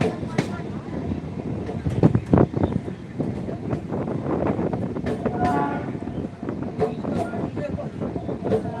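A local train moving near Bhasar railway station on the Sitamarhi to Bajpatti line, a steady rumbling rattle with clanking bursts and wind buffeting the microphone, close and fairly loud, with people talking intermittently over it.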